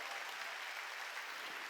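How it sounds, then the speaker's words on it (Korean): A church congregation claps together during a Sunday worship service, a dense, continuous patter of many hands that stays even and moderately distant throughout the short moment. "박수 치며 하나님께 영광 돌리는 거예요"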